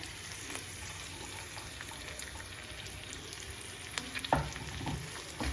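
Dried prawns frying in a small amount of oil for chemmeen chammandhi, a steady low sizzle with light stirring taps and a few louder scrapes near the end.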